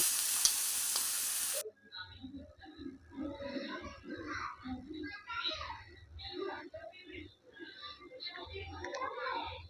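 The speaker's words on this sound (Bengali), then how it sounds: "যে পাতাগুলো কুচিয়ে রেখেছিলাম সেই সজনে পাতাগুলো সমস্ত তেলের মধ্যে দিয়ে দিচ্ছি" Chopped moringa leaves drop into hot oil and fry with a crackling sizzle, stirred in irregular scraping bursts, close and moderately loud after an opening hiss, with a voice talking over it.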